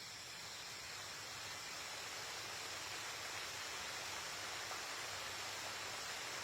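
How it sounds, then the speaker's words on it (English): Steady, dense rush of a waterfall and flowing water in a dubbed anime scene, a continuous broadband roar holding even from start to finish with no voices over it. "There, you can hear the water flowing if you listen."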